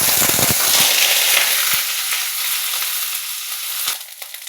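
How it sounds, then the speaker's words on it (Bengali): Steamed, drained cauliflower frying in hot oil in a wok, a steady close sizzle that carries through, with a few soft knocks at the start and a louder clatter near the end. "সেটা এবার তেলের মধ্যে দিয়ে ভাজবো"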